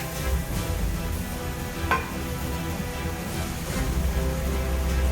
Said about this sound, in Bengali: এখন আমি আম ঢেলে দিচ্ছি